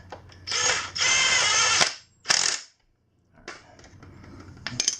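A power tool spins a socket on an axle nut on a KLX140 motorcycle in two close, loud whirring bursts, followed by quieter mechanical clicks and rattles.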